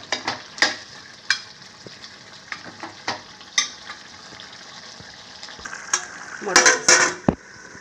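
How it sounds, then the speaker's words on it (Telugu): Mutton curry sizzles in a pan while a spoon stirs it, producing scraping clicks at irregular intervals and a louder burst of frying and clanks near the end; no one speaks. "కూర ఫ్రై అయినట్టుంది"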